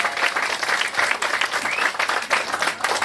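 Audience applause at a Balinese topeng bondres comedy show: a dense, sustained burst of many hands clapping, swelling and dipping in waves for a few seconds from a sizable crowd.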